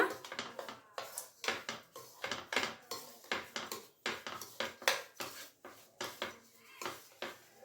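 Chiroti rava stirred while roasting in a pan for hotel-style kesari bath: a steady run of spoon scrapes and metal clinks against the pan, repeated rhythmically and close up, with no talking.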